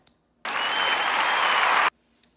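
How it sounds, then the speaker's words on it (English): A burst of canned applause, dense and even, starts abruptly and stops abruptly after about a second and a half, with near silence before and after. "Can I get a round of applause, please?"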